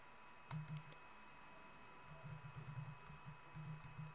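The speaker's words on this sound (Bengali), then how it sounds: "এখানে এখন আপনি পাইথনের কোড লিখবেন।" Computer keyboard typing Python code for a Streamlit web app, heard as faint, soft keystroke clicks in short bursts behind a steady background hum.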